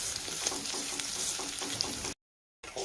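Onions sauté in oil with a soft, continuous sizzle and faint stirring. The sound cuts out for a brief moment before resuming.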